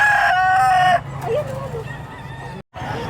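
A Peruvian gamecock rooster crows loudly and close at a busy pets and livestock market, one full crow followed by clucking and fainter crowing from other birds amid crowd noise.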